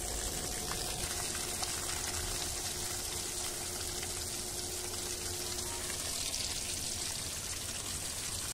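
Water from a garden hose pipe pours steadily onto plants in a home garden in Rourkela, a soft, continuous hissing splash heard from close by with no talking.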